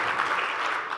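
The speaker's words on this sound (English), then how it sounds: "A round of applause for that." A conference audience in a session hall applauds, a brief, even wash of many hands clapping together at moderate loudness with no voices over it.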